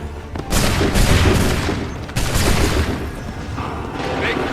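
Musket volley fire in Assassin's Creed III, a loud ragged crackle of many shots erupting at once, followed by a second volley about two seconds later and lingering rumble, with shouted voices mixed in.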